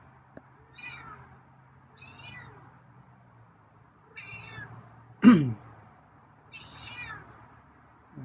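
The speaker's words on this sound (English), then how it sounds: "meow that came out like a hiss" A feral cat gives several short, strained meows spaced a second or two apart, one coming out sharp and breathy like a hiss, close and fairly quiet in a still room.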